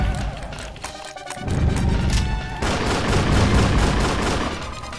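Dense volley of gunfire in the retro-style shooter The Golden Souls, loud and sustained with overlapping shots and booms crowding together for several seconds, no voices present.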